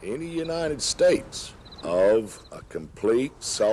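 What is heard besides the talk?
None of the usual background noises is heard.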